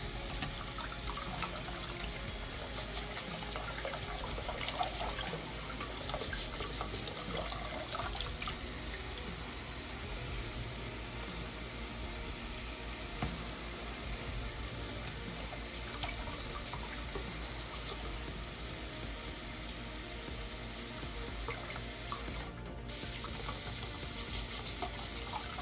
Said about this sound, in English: And use this cold water.